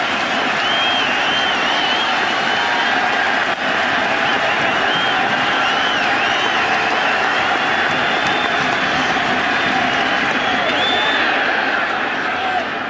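A packed crowd in a baseball stadium during World Series Game 2 between Philadelphia and New York roars and applauds in a continuous, loud wash of cheering that stays steady throughout.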